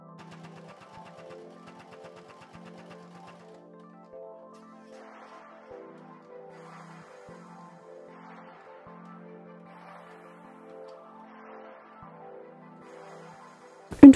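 A sewing machine stitches the side seams of a cloth face mask with a quiet, steady mechanical whirr that pulses lightly throughout. A sharp click or knock comes at the very end.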